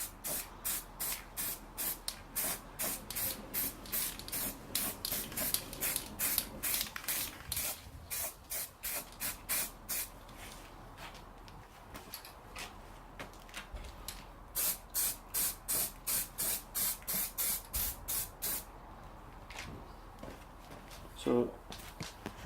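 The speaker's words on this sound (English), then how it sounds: "I'm not doing any heavy coats, just fine spraying" Aerosol spray paint applied in fine coats to a Classic Mini rear subframe, many short rhythmic bursts of hiss with pauses, close up, with someone talking in between.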